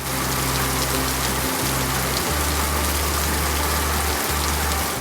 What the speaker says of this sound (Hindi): तेज बारिश के साथ ठंडी हवाओं के झोंकों ने मौसम को मजीद दिलकश बना दिया